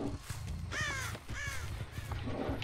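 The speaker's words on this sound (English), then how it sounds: "there's a bird there" Crows in a Dead by Daylight match: two or three loud, close harsh caws in quick succession over a low ambient hum, with no talking.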